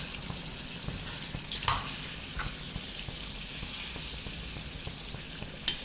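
Curry leaves frying in oil for a Malabar-style sardine fish curry, a steady crackling sizzle with occasional sharper pops and a stir or two, close by and without talk.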